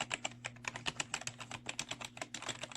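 Typing on the keys of a Sumvision Seeker Destroyer 60% gaming keyboard, a steady run of close, crisp clicks with an uneven rhythm, heard alone with a faint low hum underneath.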